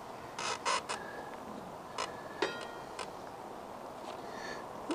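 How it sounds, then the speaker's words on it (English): A bracket being bolted onto a Honda CBR1000F motorcycle, heard as a few short metallic clicks and ratcheting scrapes close by, spread out against a quiet background. "I'll bolt into the new made bracket. Okay, that's that bolt in there."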